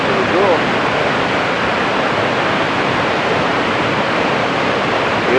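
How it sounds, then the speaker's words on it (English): A waterfall outdoors on a quiet day, giving off a loud, steady, unbroken rush of falling water with no pauses. "So we came across another waterfall."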